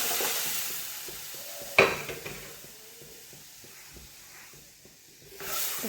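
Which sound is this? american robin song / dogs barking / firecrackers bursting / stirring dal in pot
stirring dal in pot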